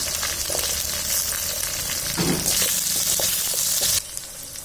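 Sliced onion sizzles steadily in hot oil in a pan, with garlic and curry leaves already added for a Tamil ivy gourd fry. The crackle is loud and close, with a few stirring clatters, and it drops off sharply near the end.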